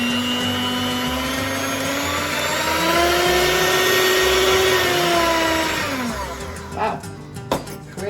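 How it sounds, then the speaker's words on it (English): An electric stand mixer motor runs steadily and loudly for about six seconds with a rising and falling whine, then winds down and stops, followed by a few clicks and light handling noises near the end. "I'm going to get my mixer ready."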